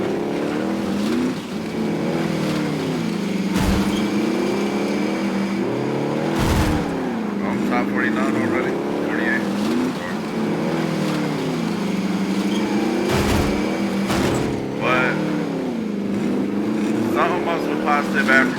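Several cars drive in the video game Call of Duty: Modern Warfare Warzone. Their engines hum and rev with rising and falling pitch, steady and fairly loud throughout, while a voice talks over them.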